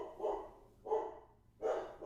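A dog barks three times at a steady pace, muffled and moderately close, each bark short and separated by quiet pauses.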